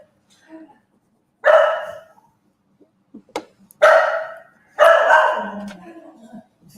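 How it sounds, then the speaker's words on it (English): Lola the dog barks at a sandwich van pulling into a workshop yard, in three loud, close bursts of rapid barking separated by short quiet gaps. "we've got to put up with a load of barking for the next couple of minutes"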